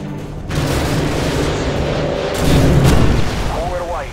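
AGM missile strikes in Call of Duty MW2 Special Ops, heavy booming explosions rolling into a sustained rumble that swells louder near the end, with a brief voice over the top.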